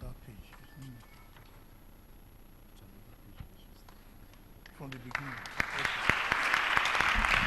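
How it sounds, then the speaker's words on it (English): Audience applause for a young reader at a university reading competition rises in the last few seconds, a dense patter of clapping following quieter room noise and scattered voices. "A round of applause for,"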